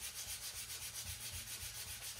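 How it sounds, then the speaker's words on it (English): A poplar board is sanded with 220-grit paper in quick back-and-forth strokes. The rhythmic rubbing sounds soft and close, and nobody speaks. "I'm gonna give it another quick sanding with 220 just to knock out that grain"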